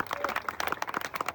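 Audience at an outdoor political rally in the rain clapping in a short burst of scattered, fairly close handclaps, moderately loud and uneven.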